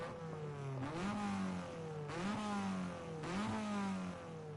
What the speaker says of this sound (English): Lovely sound of the Civic touring car